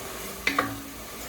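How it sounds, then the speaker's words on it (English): About half a cup of white wine hits a hot soup pot for white bean and kale soup, giving two quick, close sizzling bursts that fade into a faint hiss. "And look at it sizzle."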